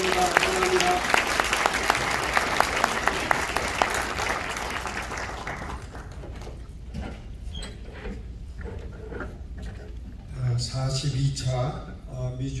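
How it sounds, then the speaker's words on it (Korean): Audience applause at a Korean Southern Baptist church convention, broad and steady for several seconds before thinning out, with a voice speaking over the fading claps. "하나님 박수 주시기 바랍니다"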